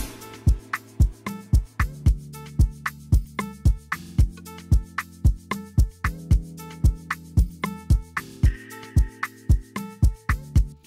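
An instrumental amapiano groove with steady punchy log-drum bass hits, crisp percussion and chiming keys, looping at a relaxed mid tempo.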